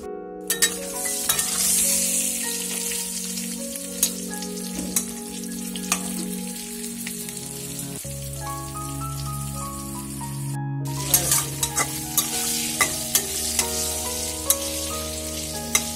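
Vegetables sizzle and fry steadily in a pan, with ridge gourd and pointed gourd being cooked, a continuous loud crackle broken by a brief pause and occasional clinks of stirring.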